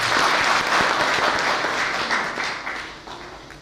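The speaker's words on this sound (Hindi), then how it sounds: "इतनी तालियां बजा रहे हैं।" Dense audience applause at a summit gathering, steady and loud with many hands clapping together, thinning slightly toward the end.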